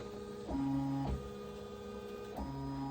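An embroidery machine tracing the outline of a left chest logo on a polo shirt, giving a steady motor hum with tonal whine that shifts pitch as the frame moves in short steps, close and alone.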